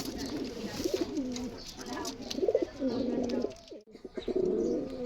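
A pair of pigeons coo close by in repeated soft, throaty rolling calls that run almost continuously with short breaks, over faint background noise.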